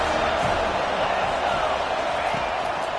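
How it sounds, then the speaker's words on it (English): A roaring stadium crowd on third down at an FSU vs Clemson college football game, a loud, unbroken wall of noise holding steady throughout. "Third down, and this crowd is tearing the lid off this place."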